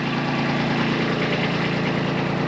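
A tractor engine idles close by, its steady low rumble and vibration holding even and unbroken throughout with no voices over it.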